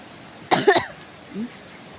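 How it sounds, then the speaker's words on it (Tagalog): A single harsh cough bursts out close by, followed shortly by a faint, brief murmur. "Parang inuubo talaga ako."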